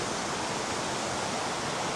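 A flowing river rushes in a steady, loud, broadband wash of water with no voices.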